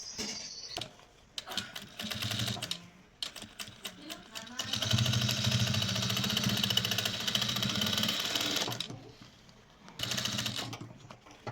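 A sewing machine stitches a handbag in a series of short and longer runs separated by pauses, with a voice speaking in the gaps between bursts.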